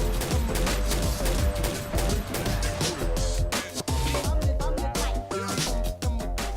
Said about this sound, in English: as you can expect from a semi-automatic sniper rifle, it is very fast firing